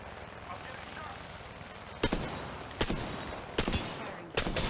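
Gunfire in the video game Apex Legends: after a quiet, murmuring start, four sharp, loud bursts of shots land roughly evenly spaced over the last few seconds.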